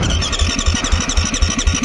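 A 2017 Beta 390RR dirt bike's single-cylinder engine turns over and sputters in a steady, rapid pulsing rhythm, loud and close, with no voices.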